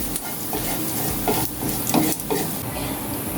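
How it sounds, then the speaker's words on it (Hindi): Red chillies fry in a pan for raw mango chutney, giving a steady close sizzle broken by a few scraping spatula strokes, with no voices. "अभी इसमें हम लाल मिर्च डाल देंगे। इसको भी हम फ्राई करेंगे 2 से 3 मिनट"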